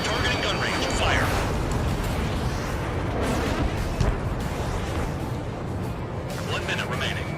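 Sustained gunfire and rumbling explosions from the jet combat game Ace Combat 7, with an Su-34 in action, forming a dense, loud, continuous roar, while voices speak over it.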